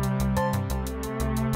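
An Elektron Digitone synthesizer runs a steady sequence of 16th notes, a repeating pulsing pattern of even synth notes with a bass layer, clear and close, with no talking.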